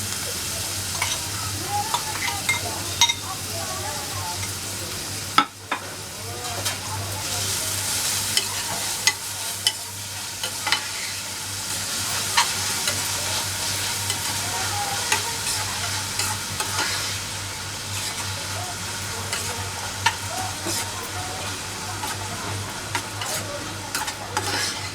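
Chopped onion frying in a pan for Maharashtrian zunka, with curry leaves in the oil, a steady sizzle broken by repeated scraping stirs of a spoon against the pan, close and continuous.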